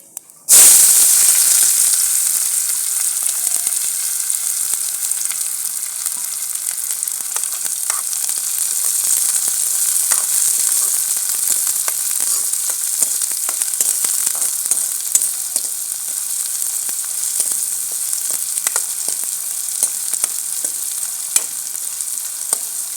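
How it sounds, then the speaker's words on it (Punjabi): Onion dropped into a hot pan bursts into loud, close sizzling and frying, a dense crackling hiss with scattered pops that continues steadily with no talk. "ਹੁਣ ਆਪਾਂ ਗੰਢਾ ਪਾਵਾਂਗੇ"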